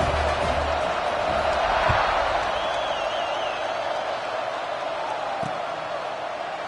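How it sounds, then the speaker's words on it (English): Football stadium crowd at a college game, a dense, steady roar of many voices buzzing after a score, loud and continuous with a faint whistle-like tone midway. "this crowd is buzzing after that last score"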